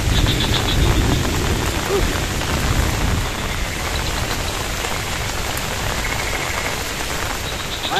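Heavy rain pours steadily on surfaces at a campsite, loud and constant for the whole stretch with no breaks.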